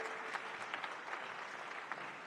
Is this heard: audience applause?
yes